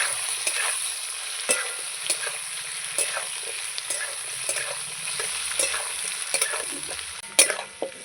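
Chopped onion frying in a pan with already-fried potatoes and taro gives a steady sizzle, punctuated by regular spatula scrapes roughly every half second and a sharper clank near the end, with no speech.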